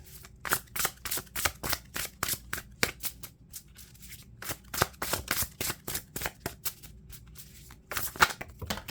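Tarot cards being shuffled for a reading: rapid bursts of crisp riffling and slapping card sounds in quick repeated clusters with short pauses between, close and fairly quiet.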